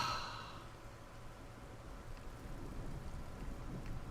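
Steady soft rain falling in the video game Skyrim, a faint even hiss of drops that slowly swells across the whole stretch, with a brief breathy sigh near the start.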